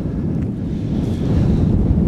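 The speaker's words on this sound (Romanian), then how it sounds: "Un vântuț aici." Strong wind rushes and buffets the microphone in open fields strewn with plastic waste near a landfill, a loud, continuous low roar with no voices.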